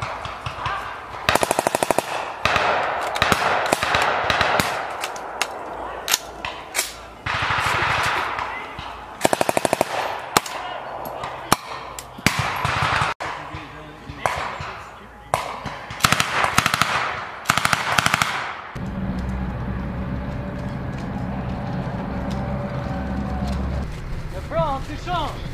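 Machine gun fire during a military training exercise with opposing-force troops: loud bursts and rapid volleys dominate the first two-thirds. The firing then gives way to engine rumble, with people shouting nearby.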